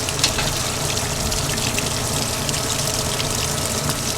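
Water gushes steadily into a washing machine filling for a warm rinse, a constant rushing, splashing flow at close range with no talk.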